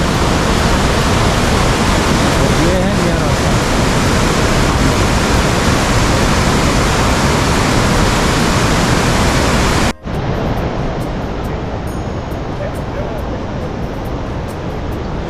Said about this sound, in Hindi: नदी का बहाव देखो